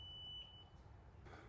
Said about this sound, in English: Get ready for that annoying beeping.